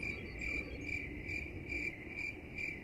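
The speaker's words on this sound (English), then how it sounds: "just cricket noises" Crickets chirp in a steady rhythmic pulsing pattern, a continuous high trill repeating several times a second, fairly faint and alone on a quiet night ambience from a real-time strategy game map.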